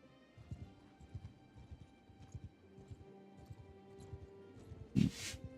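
Horses in a medieval video game trotting along, with steady soft clip-clop hoofbeats close by and a short loud whinny near the end.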